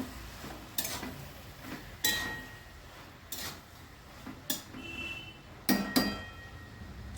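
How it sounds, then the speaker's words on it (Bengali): Prawns and bottle gourd get stirred in a cooking pan, with a series of separate spoon scrapes and clinks against the pan, spaced about a second apart over a quiet, faint kitchen background. "একটু মিশিয়ে দেবো"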